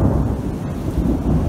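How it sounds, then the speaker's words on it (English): Deep rolling thunder rumbles continuously through a thunderstorm at sea, heavy and loud, with rain hiss beneath and no voices. "See, this is all thunder."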